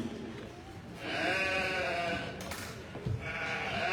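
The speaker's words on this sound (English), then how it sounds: "And Mary moves to the neck of side number 2 on sheep number 2." Sheep bleating repeatedly at close range during a blade shearing competition, the calls loud and wavering over a busy background of handling noise and crowd.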